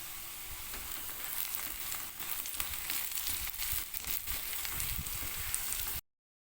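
Chopped onion fries in hot oil with cumin and dried chilli, giving a steady close sizzle with faint stirring crackles that cuts off abruptly near the end.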